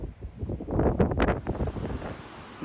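Strong wind roars and gusts across a snowy mountainside inside a cloud, a steady buffeting rush with swells of louder blowing and no talking.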